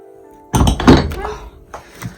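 A wooden hut door on a New Zealand backcountry tramping track gives a single close thunk as it opens, followed by a few softer knocks, with a voice speaking over it.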